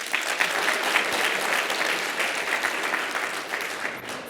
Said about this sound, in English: Clap it up if you think this was done by a scientist.